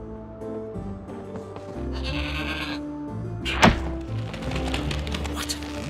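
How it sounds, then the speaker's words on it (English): A goat in the video game Trine 4 gives a bleat over a layer of game music and ambience, followed by a sharp thunk or knock partway through. "What an amazing goat!"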